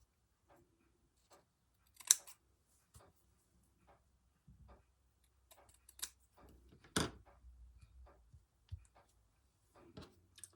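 Scissors trim hand-embroidered fabric in a quiet room, making sparse, soft, close snips and clicks spaced irregularly, with a few sharper cuts standing out.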